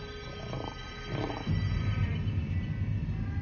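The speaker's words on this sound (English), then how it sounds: "barking at you and coughing, the typical attack bark if you get too close to him" A male lion gives coughing attack barks, short breathy grunts followed by a deep, rumbling growl that swells and continues, close and moderately loud with no voices.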